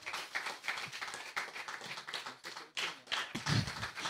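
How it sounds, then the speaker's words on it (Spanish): An audience at a live Sukkot 2021 celebration claps loudly in dense, continuous rounds for about four seconds, with no speech over it. "Un aplauso fuerte."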